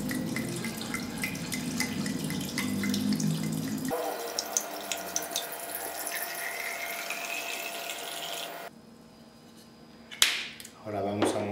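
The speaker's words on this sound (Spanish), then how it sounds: "Y agregamos el vino." Wine is poured into a clericot mixture, producing a steady, close liquid splashing and gurgling that stops after about nine seconds. Faint clinks and a voice follow.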